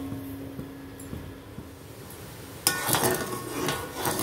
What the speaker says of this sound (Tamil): ஏலக்காய் பொடியும் போட்டுடலாம் நல்லா கிண்டி விட்டலாம்